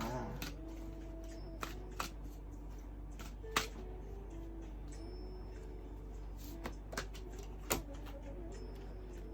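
Tarot cards are shuffled for a reading, with soft, intermittent riffles and sharp card clicks every second or two over a steady low hum, close to the microphone.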